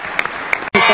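Delegates at the UEFA Congress applaud Gibraltar's admission as a member. A short, loud burst of hall clapping starts abruptly after a brief pause, following a few faint knocks.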